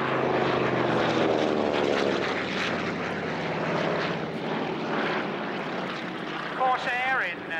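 A Corsair in US Navy markings flies at an air show at Alconbury, its 2,000-horsepower 18-cylinder Pratt & Whitney Twin Wasp radial turning a large propeller. The engine's loud, steady drone runs throughout while an announcer talks over it.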